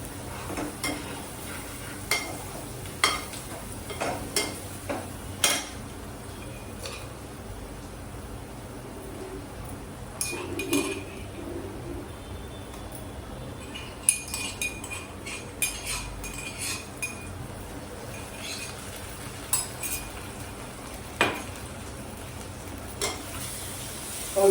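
Onions sizzle softly in a pan as ginger-garlic paste goes in for a prawn curry, with steady scraping and clinking of a spoon or spatula against the metal throughout, fairly quiet and close.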